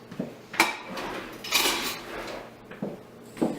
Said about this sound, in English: So I'm just going to beat those together by hand.